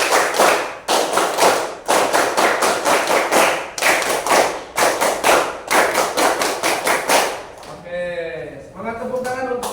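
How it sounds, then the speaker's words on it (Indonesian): A class of students claps a scout-style rhythmic pattern, tepuk pramuka, in a room: loud, close bursts of synchronized claps in quick grouped patterns run for about eight seconds, then voices follow. "sekarang tepuk pramuka 2"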